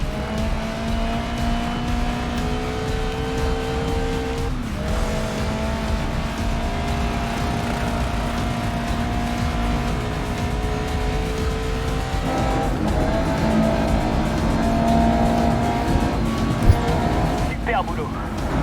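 Race car engine revving and droning steadily in the racing game GRID Legends, loud and continuous with shifting pitch and a tire squeal near the end, with speech over it.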